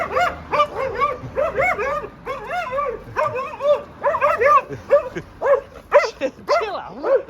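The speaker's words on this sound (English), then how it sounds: "All you get is all the dogs maddening all the time." Several dogs bark and yip in rapid, overlapping bursts around a van campsite in Romania, loud and close, with whimpering mixed into the barking and no pauses.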